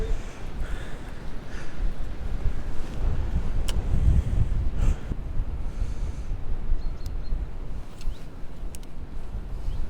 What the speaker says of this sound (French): là on est bien exposé au vent là